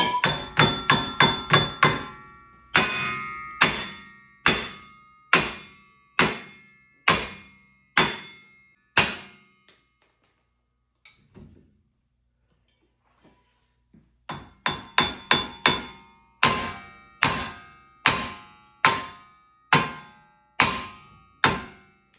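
A Subaru wheel hub being hammered out during removal rings with sharp metallic blows in rapid bursts, then slower evenly spaced strikes, a quiet pause of a few seconds, and another run of steady hammer hits.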